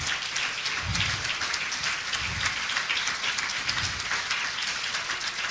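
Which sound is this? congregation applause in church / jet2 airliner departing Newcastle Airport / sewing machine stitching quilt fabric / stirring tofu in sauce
congregation applause in church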